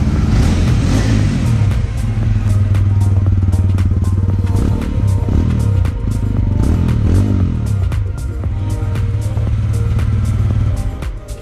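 A TVS Ronin 225 motorcycle's exhaust barks through repeated loud revs, the engine rising and falling in several bursts over a steady close idle, with sharp clattery transients throughout.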